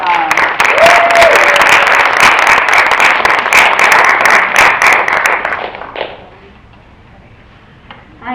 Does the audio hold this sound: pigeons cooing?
no